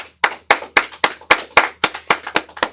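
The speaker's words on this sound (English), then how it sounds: "Come on, let's get a Most High hand clap." Eleven sharp hand claps ring out in a steady, evenly spaced rhythm from an audience, each crisp and loud, with no voices over them.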